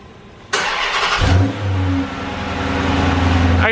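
A car engine cranks and catches with a loud burst, then settles into a strong idle with a swell of revving, heard up close and alone.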